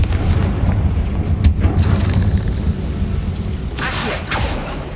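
A Confringo fire spell blast in the Hogwarts Legacy video game, a loud booming explosion with a sharp burst partway through, over a dense rumbling game backdrop.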